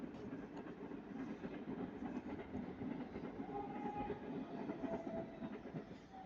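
A passenger train rolling past at Ardwick, quietly heard at a distance, with a continuous rumble and faint repeating wheel clatter across the track joints, steady throughout and with no voices.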